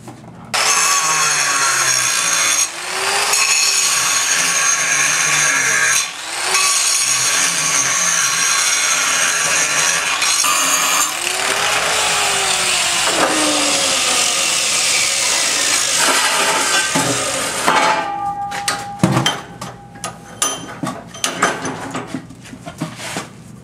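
An angle grinder works a John Deere A gear rim clamped in a vise, a loud, harsh, continuous grind with brief dips as the tool lifts off, ending in a clatter of metal handling.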